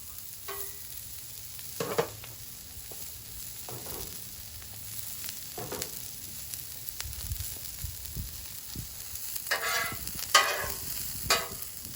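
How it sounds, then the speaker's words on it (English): Sliced onions fry in oil on a flat griddle, a low sizzle with intermittent scraping and stirring bursts from a spatula, heard alone and fairly quiet. "Add a little more oil. Put the onions in."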